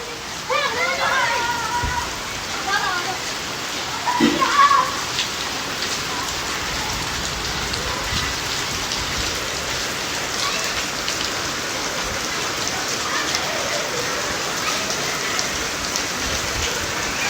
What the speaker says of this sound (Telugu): తర్వాత మా ఊళ్ళో వర్షం పడుతుంది.